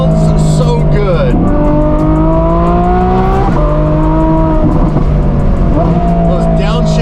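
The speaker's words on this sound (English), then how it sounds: "Those downshifts, super crisp. Listen to that." A twin-turbo Ferrari F12 screams loudly through repeated rising revs, with several sharp downshifts and gear changes breaking the engine note, heard from close by while a voice talks over it.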